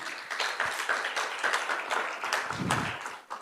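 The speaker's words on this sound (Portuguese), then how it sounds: "Aplauda ao Senhor" A church congregation claps in praise during a worship service, a soft, continuous patter of many hands that stays fairly faint and even for a few seconds.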